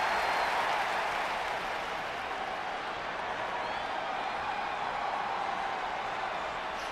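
Arena crowd noise in the wrestling video game WWE 2K20, a broad steady roar of cheering and applause from a home crowd, loud and continuous throughout with no distinct voices on top.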